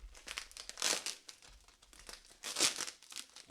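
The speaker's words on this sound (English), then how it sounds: "Getting into this bubble wrap, I'm gonna just carefully use my scissors" Crinkly plastic rustling and crunching in bursts as scissors cut into bubble wrap, with two louder crackly snaps close by.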